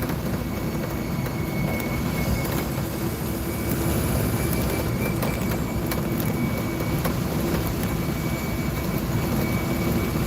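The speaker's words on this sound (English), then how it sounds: "I apologize if you can hear some wind noise from the window" Steady, loud rushing wind roars past an open car window, a continuous broadband buffeting with road noise underneath and no talking.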